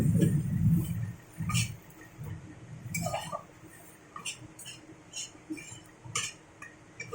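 A spoon stirring bottle gourd leaves with spices in a pan over a low gas flame, giving scattered metallic clinks and scrapes against the pan over a soft low rustle, close and fairly quiet.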